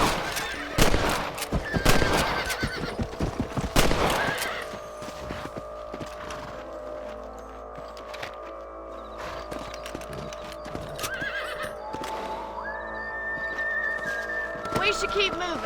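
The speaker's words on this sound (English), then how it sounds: "Let's get back on the horses and see what else is going on." Horses in a Western video game clop along with occasional neighs, accompanied by a sustained musical drone and low ambient tones, with a few sharp impacts early on.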